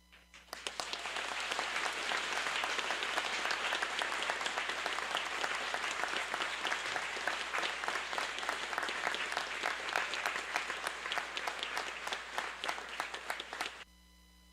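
Congregation at a Lutheran district worship service in Candelária, RS, celebrating 500 years of the Reformation, bursts into sustained, loud applause with many hands clapping evenly for about thirteen seconds before stopping abruptly.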